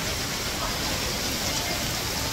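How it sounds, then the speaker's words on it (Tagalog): Heavy rain pours steadily outdoors, a dense, continuous hiss that fills the whole short stretch without pause or voices. "Kaya lakas pa ng ulan ng ngayon."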